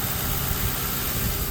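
A 2005 Ford Crown Victoria Police Interceptor engine idles with a steady, even, rumbling hum and broad noisy vibration, no talk over it.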